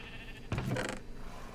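A sheep bleats once in a Minecraft survival game world, a short, close, clear in-game animal sound with faint background ambience.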